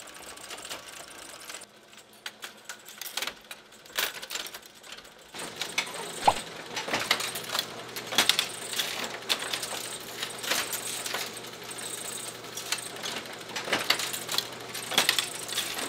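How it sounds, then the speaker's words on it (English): A Linotype typesetting machine runs with continuous mechanical clatter, brass matrices dropping and clicking into the assembler in irregular bursts over a steady motor hum, close and fairly loud throughout. "Matrices then drop down into the assembler from the magazine, where a rail holds the mats into place with a jaw to set the desired line width."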